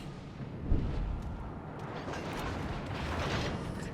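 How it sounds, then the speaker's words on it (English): Battleships and a cruiser fire their guns in World of Warships, with a heavy distant boom followed by a low rumbling roar of shell fire that builds and stays dense throughout. "So I got 3 battleships and a cruiser shooting at me."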